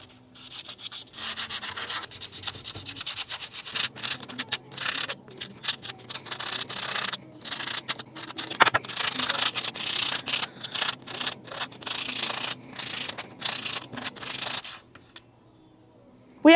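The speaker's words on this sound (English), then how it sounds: "now we are gonna sand it by hand with 120 grit." Steady rhythmic rasping of 120-grit sandpaper rubbed back and forth over wood by hand, close and continuous with brief pauses between strokes.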